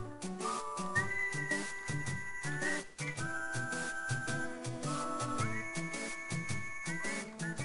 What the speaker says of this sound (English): So whistly, you just whistle to it.